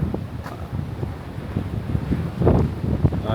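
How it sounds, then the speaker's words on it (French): Wind gusting on a coastal hike near Piha, New Zealand, a steady rumbling buffet across the microphone that swells louder toward the end. "il y a le vent"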